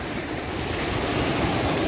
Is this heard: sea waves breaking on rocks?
yes